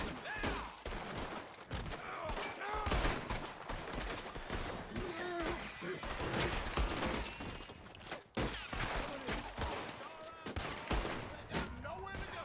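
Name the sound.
gunfire in video game Red Dead Redemption 2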